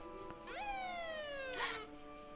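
In the video game The Supper: New Blood, police sirens approach a motel, a wailing electronic tone sweeping up and down in long glides, fairly faint and heard alone.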